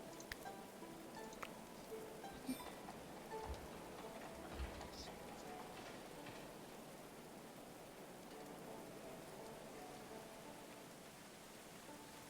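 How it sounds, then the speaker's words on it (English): Rain falling in the Going Medieval video game, a soft continuous patter and hiss at low level with a few faint clicks, steady throughout. "the rain might start clearing up again"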